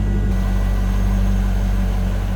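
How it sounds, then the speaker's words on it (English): A 1998 Chevrolet Corvette Indy Pace Car convertible with an LS1 V8 idles with a steady, deep, loud rumble recorded up close, continuous and without talking. "just a nice little rumble coming out of that LS1"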